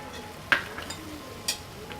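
Chicken filling with chopped green chillies and coriander stirred in a hot pan, with two sharp scraping clinks of the spoon over a soft, steady sizzle.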